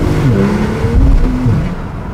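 A Porsche Turbo S in Sport Plus mode accelerates hard, a loud close engine roar with rising pitch sweeps and rushing road noise throughout.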